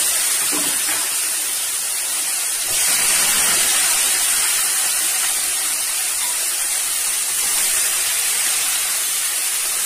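Onions hitting hot oil for mutton kosha, a sudden surge of loud sizzling and hissing that settles into a steady frying crackle, with no talking.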